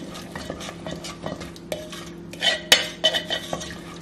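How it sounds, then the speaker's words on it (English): A spoon stirs tapioca flour, turmeric and garam masala through a beef korma in a pot, with scraping and light clinks against the metal that grow louder and more frequent toward the end. "All together here, all like stir this, mix this all well here."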